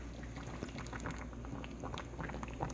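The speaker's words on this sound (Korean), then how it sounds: "미리 제가 지금 불을 지피고 끓이고 있는 중입니다" A pot of hairtail braise with a block of tofu simmers on the stove, giving a steady low bubbling with small pops and crackles throughout, close and fairly quiet, with no voices.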